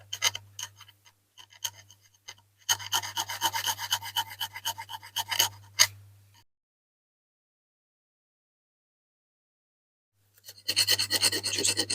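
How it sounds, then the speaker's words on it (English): A flat file rasps rhythmically across the bumper of a Corgi Toys 407 Smiths Karrier diecast toy, quick close strokes in bursts, then a dense run of filing, a long silent pause, and more steady filing at the end. "And I'll get a flat file on there, and I'll just take it off there."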